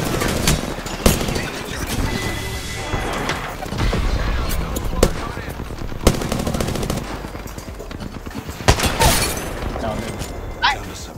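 Rapid automatic gunfire from the video game Apex Legends rattles in close, loud bursts with sharp single cracks between them, while voices shout over the shooting.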